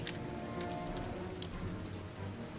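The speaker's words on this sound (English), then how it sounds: "then I put heavy rain right here" Heavy rain sound effect playing as an ambient backdrop for a gaming stream: a constant, fairly quiet hiss of rainfall on a surface with scattered drop patter and a low rumble beneath, steady from start to finish.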